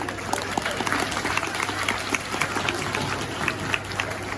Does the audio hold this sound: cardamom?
no